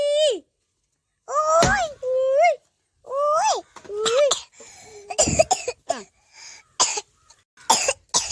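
A feverish child coughs several times in harsh, uneven bursts, mixed with whiny vocal moans and short fragments of a voice, close to the microphone.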